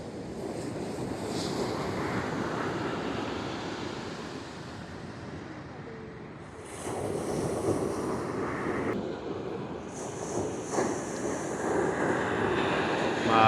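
Ocean waves wash onto a resort beach in La Paz, San Narciso, Zambales, a continuous surf roar with swelling breakers and wind buffeting the microphone.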